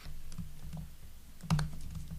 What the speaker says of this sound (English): all I'm going to do is start typing.